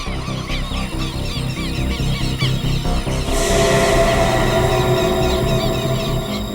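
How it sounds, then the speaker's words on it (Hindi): Honking goose-like birds call over and over in a loud, dense chorus that grows busier and louder halfway through. "पक्षियों की आवाज सुन रहे हैं आप?"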